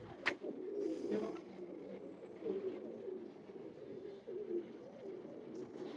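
Teddy breed pigeon cooing, a soft low, rolling coo that repeats in several throaty phrases, faint and near, with a sharp click near the start.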